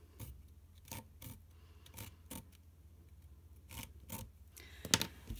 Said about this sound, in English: And then you can come along with your scissors.